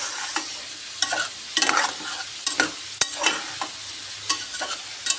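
Radish and shrimp with spices being stirred and sautéed in a pan, a steady soft sizzle broken by repeated sharp scrapes and clanks of a spatula, close and with no voices.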